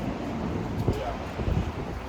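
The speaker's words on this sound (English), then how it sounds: "it's getting windy and I'm regretting that I didn't bring a jacket." Wind gusting outdoors on a first day in Canada, a steady low roaring rush against the microphone with brief stronger buffets, no clear speech.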